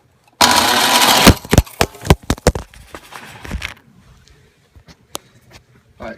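A homemade Honda-based motorcycle engine cranks and sputters into a short loud burst of running, then dies into a series of sharp popping backfires and faint clicks, close by.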